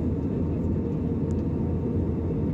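Inside an airplane cabin descending into Leh in Ladakh, a steady low engine and airflow roar fills the space continuously at an even level, with faint voices barely audible beneath it.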